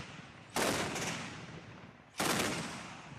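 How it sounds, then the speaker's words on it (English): Heavy artillery fire from fighting in Libya sounds as two loud, booming blasts about a second and a half apart, each rolling out into a long echoing rumble over the city. "the streets reverberated with the sound of heavy artillery"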